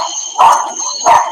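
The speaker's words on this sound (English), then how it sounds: "the dog's loud" A dog barks twice at close range, each bark loud and sharp, with a steady high-pitched whine running underneath.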